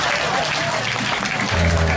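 Audience applause during a religious lecture, loud continuous clapping from a crowd that holds steady, with a low rumble swelling near the end.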